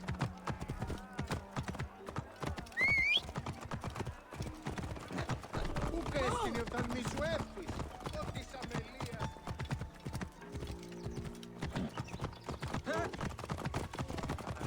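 Horses in Assassin's Creed Origins' Roman Alexandria clip-clop along with a steady rhythm of hooves, joined by an occasional whinny and busy street ambience, with a voice talking over it.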